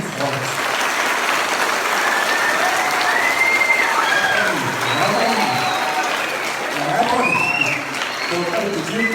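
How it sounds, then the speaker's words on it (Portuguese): Strong, continuous applause from a school audience fills the room at a children's storytelling event, with children's voices and cheers calling out over the dense clapping throughout. "Eu quero pedir a vocês todos uma salva de palmas bem forte."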